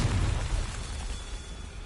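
A Confringo fire spell explodes in Hogwarts Legacy, a short, dense blast of low rumbling noise that fills the moment and then fades slightly, with no speech.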